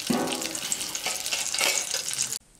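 Green chillies fry in oil in a pan, a close, bright, continuous hiss with faint stirring, holding steady until it cuts off abruptly just before the end.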